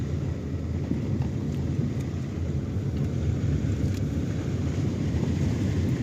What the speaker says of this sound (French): Je l'ai dans la gueule, le vent.